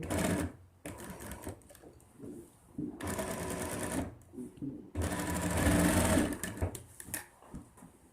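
A sewing machine stitching a kurta, running in rapid bursts of motor whir and needle chatter that start and stop, with short pauses between runs.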